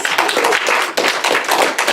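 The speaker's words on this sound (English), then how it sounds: "Another round of applause for her, please" Dense audience applause at a public speaking event, many hands clapping loudly and continuously in a close, lively burst with slight swells.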